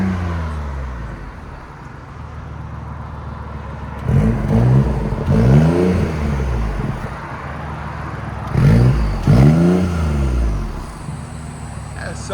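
A 2017 BMW i8 hybrid sports car with straight pipes revs in two loud bursts of rising and falling engine roar, each a pair of quick revs, over a steady idle rumble.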